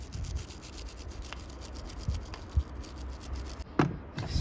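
Spark plugs from a Datsun 720 are scrubbed clean by hand, making quiet, irregular brushing and rubbing strokes up close, with a few sharper scrapes and no talk.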